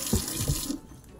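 Tap water runs briefly into a sink with a close, splashing gush before the flow cuts off.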